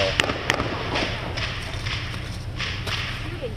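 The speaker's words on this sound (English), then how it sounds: "We heard those gunshots when interviewing witness Kelly LeSueur." Gunshots at an escalating police scene: several sharp cracks, two close together near the start and more spread through the clip, fairly distant over steady outdoor background noise.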